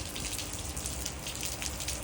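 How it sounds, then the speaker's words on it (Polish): Steady rain falling outdoors after a leg workout, a continuous even hiss of drops with low watery rumble underneath, no voices. "Niestety pada deszcz."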